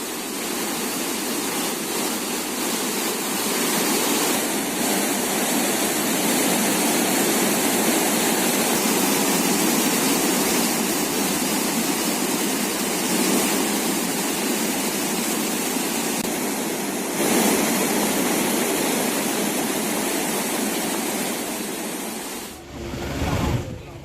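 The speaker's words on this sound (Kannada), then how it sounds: "ಕಟ್ಟೇಪುರ ಅಣೆಕಟ್ಟು ತುಂಬಿ ಹರಿತಾ ಇದೆ." Kaveri river water rushes over the overflowing Kattepura dam near Ramanathapura, a loud, dense, continuous roar of falling water, steady until a brief disturbance at the very end.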